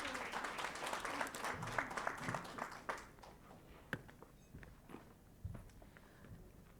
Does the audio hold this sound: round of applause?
yes